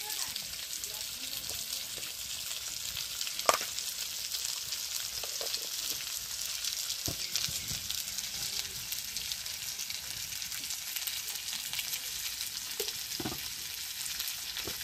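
Snakehead fish and taro fry in a wok for a village meal in the Sundarbans, giving a steady close sizzle throughout with a few soft clinks and stirring knocks.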